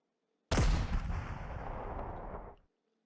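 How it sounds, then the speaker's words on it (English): An artillery piece fires in the WWII strategy game Panzer Corps 2, a single sharp loud boom after a brief silence, followed by a rumbling tail that decays over about two seconds. "I'm gonna hit him one more time with a piece of artillery."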